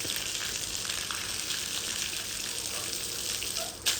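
Water gushing steadily from an electric water pump motor's outlet, a continuous hissing splash with a brief knock near the end and no speech.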